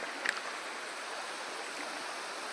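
Dhareshwar waterfall stream flows with a steady, faint broadband rush and no distinct events.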